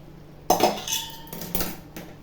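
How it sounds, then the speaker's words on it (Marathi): Metal spoon clinking and scraping inside a cooking pot as ragi (finger millet) khichdi is stirred after water is added, a few close, clattering strokes over a faint background hum. "पाणी टाकल्यावरही चांगलं असं हलवून घ्यायचं"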